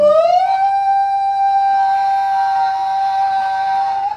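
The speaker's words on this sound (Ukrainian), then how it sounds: "Це що, повітряна тривога, я не понял." An air raid siren wails loudly and steadily, rising in pitch at the start and then holding a sustained, piercing tone, heard at an office party.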